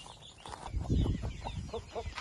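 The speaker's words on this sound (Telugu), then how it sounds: "చూడండి ఎంత బాగా తింటుంది మా కోళ్ళు" Desi country chickens cluck softly while pecking at a feed of fish meal, spinach, tomato, onion and rice, with a quick run of short, close clucks and scratchy pecking sounds.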